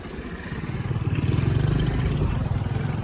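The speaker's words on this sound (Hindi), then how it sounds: "देखो दोस्तों ट्रैक्टर आ गए" Tractors pull in at a village wedding in Pakistan, engines chugging in a steady mid-pitched rumble that grows louder and stays close and continuous.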